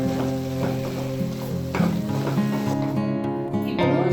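Bottle gourd peel with turmeric frying and being stirred in a pan, steady close sizzle with scraping stir strokes throughout, no talking.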